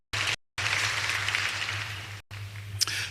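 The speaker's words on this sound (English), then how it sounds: "Please clap for them as well." Audience applause at a Kenyatta University public lecture, a steady wash of clapping with a brief break near the start and another short gap before it resumes.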